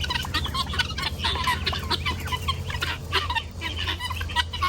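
A flock of guinea fowl calls continuously, a dense, busy chatter of overlapping harsh clucks and cries from several birds close by, steady throughout.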